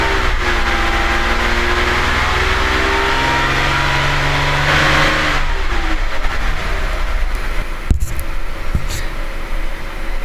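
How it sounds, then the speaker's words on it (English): A car engine idles, then a quick throttle snap sends the revs sweeping up and back down, followed by a sharp clunk and lower idle rumble, loud and close with no talking. "I'm going to go ahead and give the throttle a little bit of a snap"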